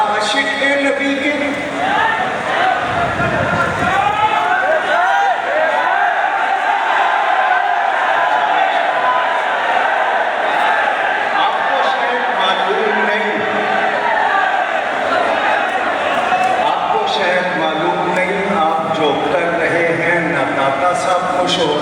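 A large crowd at the Data Darbar shrine loudly chanting religious slogans, a dense, continuous mass of raised voices close by, mixed with someone speaking.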